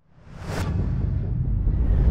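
A Volvo EX30 test car speeds past on the high-speed track at Hällered Proving Ground, a deep rumbling whoosh that swells quickly and stays loud.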